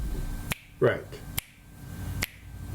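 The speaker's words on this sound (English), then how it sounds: "If I snap my fingers." A finger snap in a room rings out as sharp, isolated cracks, three of them spaced irregularly, close and loud, with a brief voice sound between the first two.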